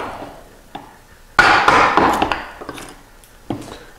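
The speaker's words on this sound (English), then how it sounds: "I had set the chisel in on all of the base lines for these dovetails" Woodworking chisel struck into a board to chop dovetail baselines, with a few sharp knocks followed by a burst of scraping and crunching as wood fibers are cut, close and moderately loud.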